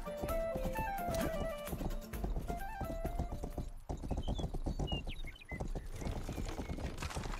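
Horse hooves clip-clop in the medieval video game Rustler, a quick rhythmic trot up close over game music with melodic tones, with whinny-like sounds mixed in.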